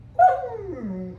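A begging dog lets out a single drawn-out whimper for a treat. It is close and clear, rising briefly and then sliding downward for about a second, with no talk over it.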